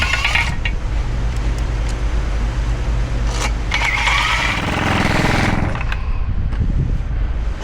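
Bolts being started and tightened by hand on a Duramax diesel pickup during an underbody install, metallic clinks and ratchet turns over a constant loud hum of shop noise, no talking.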